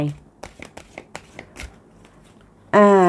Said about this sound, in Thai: ขอเพิ่มจากไพ่โรสแมน แองเจิลค่ะ